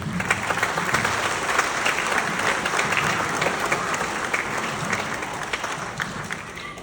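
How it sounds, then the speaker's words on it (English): An audience claps steadily for about seven seconds after a Rice High School wind ensemble performance at an end-of-year school concert, a dense, even wash of applause with no break. "Give them another round of applause, please."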